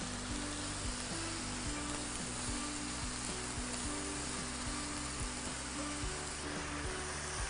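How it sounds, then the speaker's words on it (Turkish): Meat sizzles steadily in a hot pan as it is stirred, a dense continuous frying hiss with soft scraping and clinks, close and loud, with a low background hum and no talking. "Etlerimi de karıştırıyorum hemen yanındayken."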